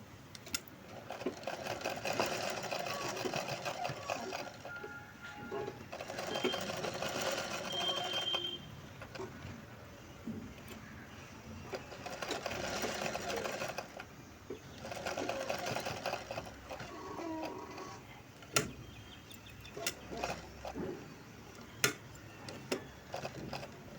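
A sewing machine runs in steady bursts while stitching a boat neck blouse, its motor whirring close and loud with short pauses between runs and a few clicks as the fabric is turned.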